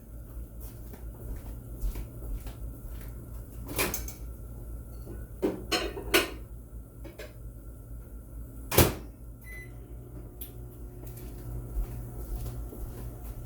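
Quiet kitchen handling sounds: a microwave door opening and shutting with a few clunks and clicks over a low steady hum.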